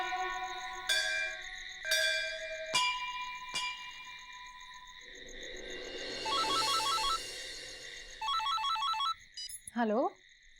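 A phone rings late at night amid layered electronic tones and chimes, a mix of ringtone trills and beeping melodies building and then cutting off, with no one talking over it.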